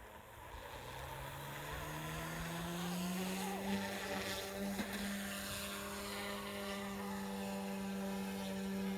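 An RC helicopter spins up for takeoff in windy conditions, its motor whine climbing in pitch over the first seconds and then holding a steady, fairly close tone with faint wind in the background.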